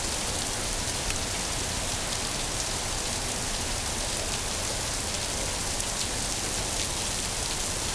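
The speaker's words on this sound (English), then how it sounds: "Raining like a bitch." Heavy rain pours down outside a porch, a loud, unbroken hiss of water hitting surfaces that stays even throughout, with no voices.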